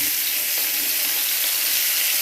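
Pieces of bitter gourd and potato frying in a pan give a steady, dense, loud sizzle that holds evenly throughout with hardly any change, close up and without voices.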